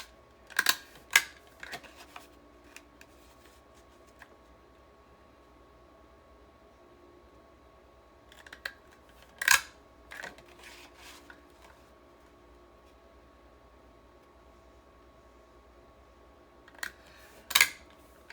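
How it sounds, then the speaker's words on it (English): Paper card stock being edge punched for card making, heard as sharp isolated clacks in a few small bursts spread across a quiet room. "So let's just go ahead and edge punch this"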